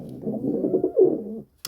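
A wild pigeon or dove coos nearby in a low, throaty, warbling call lasting just over a second, followed by a brief click, with no talking.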